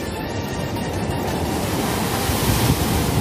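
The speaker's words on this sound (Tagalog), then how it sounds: "Pero tingnan mo naman yung alon." Ocean waves breaking on the shore at Siargao, a steady close roar of surf mixed with wind buffeting the microphone, continuous and fairly loud, with no voices.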